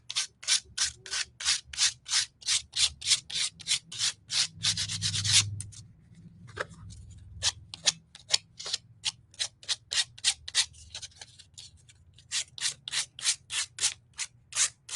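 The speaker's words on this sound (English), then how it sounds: "we're going to just kind of come along in here and sand away the excess" Sandpaper rubs rhythmically across the napkin-covered surface of a craft candle, a quick series of close, crisp scraping strokes with a brief pause in the middle before the regular back-and-forth resumes.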